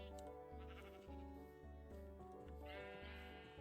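Minecraft sheep bleating in their pen, a run of repeated, evenly spaced bleats that overlap one another, quiet overall and with no talking.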